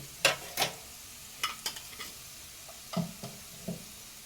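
Potato and pointed gourd peels frying in oil with poppy seeds are stirred in a pan, heard as separate scraping strokes over a faint sizzle, fairly quiet and close.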